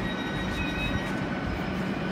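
A train rumbles past nearby, a steady, dense roar of rail and wheel noise with faint high squealing tones that holds without a break.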